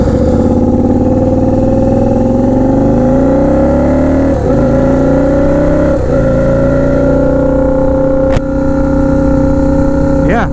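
A turbocharged Harley-Davidson V-Rod Night Rod running 5 psi boost accelerates hard on the street, its loud, close engine note climbing steadily through gears with brief dips at shifts and a sharp whoosh near the end.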